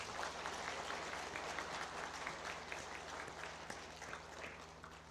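A church congregation claps together at a Sunday service honoring a youth choir's special hymn, a faint, steady round of applause heard alone at a distance.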